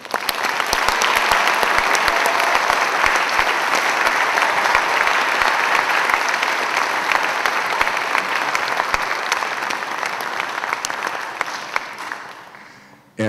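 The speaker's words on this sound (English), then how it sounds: "Give them a round of applause." Concert audience at a high school spring orchestra and chamber ensemble concert applauding student musicians, loud, dense clapping sustained for about twelve seconds before tapering off.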